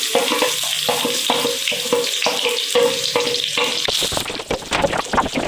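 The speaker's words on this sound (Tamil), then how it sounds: "எண்ணெய் காஞ்சதும் வெங்காயத்தை கொட்டணும். வெங்காயம் பூண்டு தாக்கணும்." Onions and garlic fry in hot oil, a close sizzle with regular stirring strokes that turn busier and more clattery toward the end.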